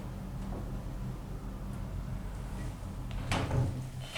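Automatic lift doors at a Next store in Bluewater Shopping Centre slide and thump open and shut over quiet indoor ambience, with a louder clunk near the end.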